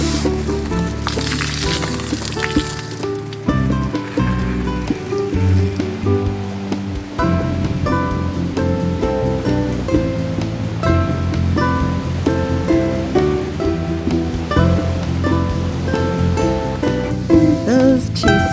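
Rain falls at a waterfront campsite in Driftwood Provincial Park, a continuous close hiss and patter that is strongest at first and then carries on beneath steadier tonal background sounds.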